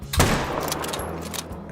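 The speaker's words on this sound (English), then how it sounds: "I'ma shoot that little bacon with the 7mm." A single loud 7mm rifle shot in theHunter: Call of the Wild, a sharp crack followed by a long rolling echo that fades across the open hunting landscape.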